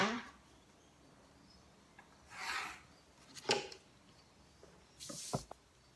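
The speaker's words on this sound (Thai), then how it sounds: "วาดเส้นให้เห็นชัดๆก่อนนะคะ" Faint, sparse scratching strokes of a pen or marker drawing lines on a paper sewing pattern, a few short rubbing sweeps separated by quiet pauses.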